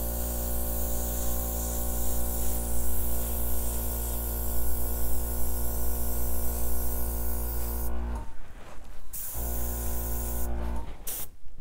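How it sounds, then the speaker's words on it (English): An airbrush sprays paint over an acrylic pour, giving a steady, close hiss that runs unbroken for about eight seconds, cuts out briefly, resumes, then stops again near the end. "see what I can do with that with the airbrush."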